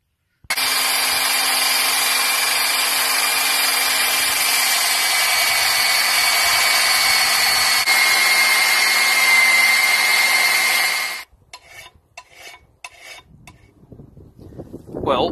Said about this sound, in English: I discovered that actually the die grinder was the best tool for this job